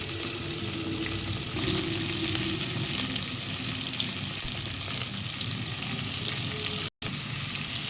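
Onions sauté in hot oil in a pan for a meat curry, a continuous close hiss and sizzle with faint stirring, broken by a brief dropout near the end.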